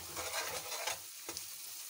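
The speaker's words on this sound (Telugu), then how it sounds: "ఇప్పుడు ఉప్పు, కారం, పసుపు వేసాక బాగా ఉల్లిపాయ ముక్కలు వేపాలి." Sliced onions fry in a pan with salt, chili powder and turmeric for a fish curry, a steady close sizzle with occasional stirring scrapes and no voices.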